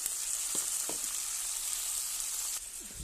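Chopped tomatoes go into onions frying in a pan for a dried fish dish, giving a steady, close oil sizzle with a few soft knocks and stirring scrapes, no voices.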